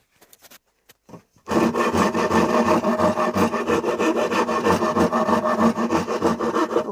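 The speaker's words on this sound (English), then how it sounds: "Grab your rasp." Rasp filing wood for a fabricated PS5 console rear panel: after a few brief scrapes, steady continuous rasping starts and carries on loud and close, with a fast back-and-forth scraping rhythm and no talk.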